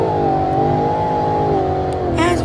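A Ford Mustang Dark Horse engine being driven in the Roblox game, a steady loud droning hum that dips slightly in pitch, then rises briefly with a rev at the end.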